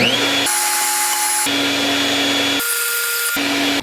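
A power tool cuts through a motorcycle axle on a Grom, a loud steady whine that drops and rises in pitch across several passes, close and alone with no talk.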